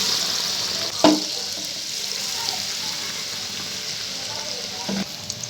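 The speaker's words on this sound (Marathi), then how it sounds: "आता आपण हे व्यवस्थित तळून घ्यायचंय आहे तळून घेऊया दोन्ही बाजूनी" Bread pakoda slices, coated in batter, frying in hot oil with a steady bright sizzle, loud and close; a couple of sharper crackles and clinks rise briefly, with no talk over it.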